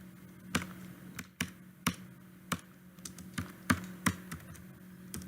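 C++ code is typed on a computer keyboard, with a string of crisp, irregular key taps near at hand, some quick and clustered and others spaced apart, over a quiet low hum.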